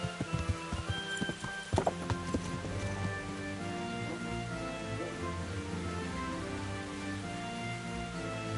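A horse's hooves clop in the medieval video game Kingdom Come: Deliverance, a rhythmic stream of close thuds over a constant musical and ambient background, a little busier in the first two seconds.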